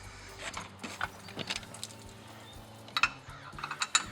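A Multi-Lift trailer hitch unit ratchets up and down, giving scattered metallic clicks and pawl snaps in irregular bursts, close and fairly quiet, with no speech.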